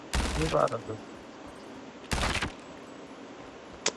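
Bursts of gunfire from the Call of Duty Mobile video game in a prop hunt match: a loud burst at the start, another about two seconds later and a brief sharp shot near the end.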